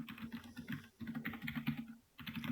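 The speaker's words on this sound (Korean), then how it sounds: "그냥 타이핑을 합시다." Typing on a computer keyboard during a Python coding lesson, with quick bursts of key clicks close up and soft, broken by brief pauses, with no talk.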